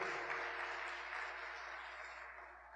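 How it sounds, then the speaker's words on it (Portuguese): Congregation clapping in a church service, a dense, steady wash of applause that holds for the whole stretch and tapers slightly toward the end, with no voices standing out. "Vamos dar uma salva de palmas ao Senhor"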